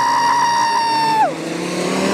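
A Volvo 5-cylinder race car, number 24, holds a loud, steady engine note close by at the start of the first lap, then the pitch drops sharply as it pulls away or shifts.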